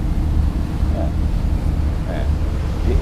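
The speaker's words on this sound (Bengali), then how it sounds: "এই যে কার্গো ট্রলার ছুটে যাচ্ছে" A cargo trawler speeds past on the Meghna river at sunset, heard from aboard a passenger launch as a steady low engine drone and rushing water, blended with wind buffeting.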